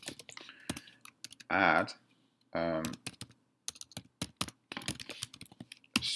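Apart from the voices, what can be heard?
typing on a computer keyboard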